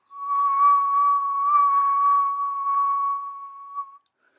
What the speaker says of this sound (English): if you take a note and whistle it on an in-breath